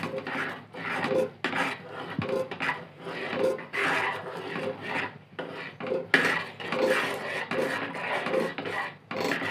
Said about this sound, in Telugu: ఇలా మనం పిండి వేసుకుంటూ కలపాలి, ఉండలు రాకుండా చూసుకోవాలి